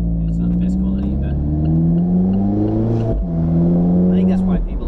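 An Alfa Romeo 4C sports car drives over a rough, poorly surfaced road, its engine droning loudly and rising in pitch through the gears, with one brief shift dip midway and people talking over the cabin noise.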